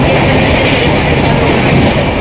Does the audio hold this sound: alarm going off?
no